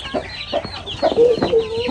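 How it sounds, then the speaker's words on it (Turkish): Hens cluck and chicks cheep in short, close bursts in a village, a busy little chorus of fowl sounds. "Civcivlere bak."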